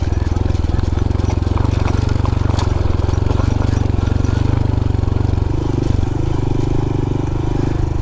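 A Honda Trail 125 Hunter Cub motorcycle rolls down a grass-covered mountainside with the rear brake in use, its engine a loud, steady, close-up drone with some clattering and a brief dip in pitch partway through.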